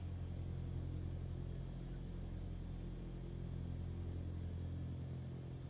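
An aircraft engine idles in a flight simulator game, a low, steady droning hum that stays even and unchanging throughout, faint and alone with no talking.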